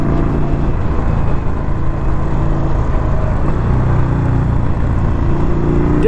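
A 2021 Indian Scout Bobber motorcycle engine pulls steadily in second gear with a loud, continuous grumble that holds at an even pitch, close and without talk.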